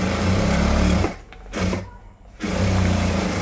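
A sewing machine stitches a bag made from a rice sack, a loud close mechanical whir that runs, stops briefly, restarts, cuts out again, then resumes steadily, with no talking.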